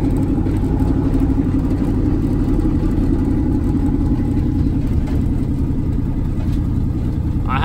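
A car engine runs steadily and loudly throughout, a continuous low rumble with a slight rise in revs near the end.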